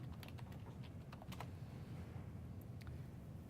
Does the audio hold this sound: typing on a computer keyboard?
yes